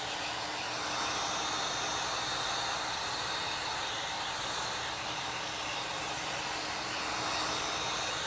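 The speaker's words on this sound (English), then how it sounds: "So I'm just gonna hit it with the heat gun for a second" A heat gun blows hot air over wet paint on a Cricut-made 3D lettered sign, a loud, steady, close-up whooshing roar that runs unbroken for several seconds with no voices.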